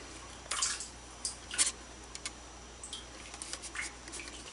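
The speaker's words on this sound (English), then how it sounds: "The fuel filter still has some fuel coming out of it." Fuel drips from the fuel filter of a 2003 Acura MDX during a fuel pump job, a scatter of faint, irregular drips and small splashes in a quiet space.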